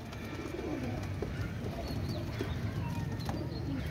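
Pigeons coo steadily in a loft with red-necked birds among them, soft repeated low calls layered over constant background noise, no voices.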